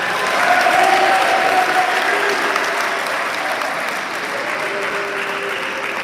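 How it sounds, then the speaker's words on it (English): Audience at a school sports awards ceremony applauding, a sustained wash of clapping from a large crowd of many hands, steady and fairly loud for several seconds. "Let's give her a round of applause."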